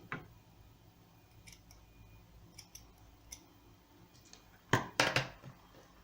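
Scissors trimming excess cords on a macrame bracelet: a few faint snips spread out over quiet background, then a cluster of louder, sharper cuts close up near the end.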